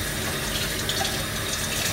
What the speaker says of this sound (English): I'm going to have to rinse my sieve out